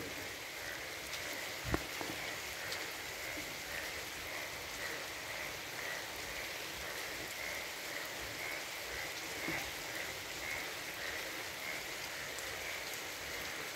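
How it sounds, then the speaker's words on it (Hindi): Steady, dense rainfall pours down continuously over farm fields, a heavy wash of drops hitting surfaces with one brief sharp knock partway through. "बहुत तेज़ बारिश हो रही है।"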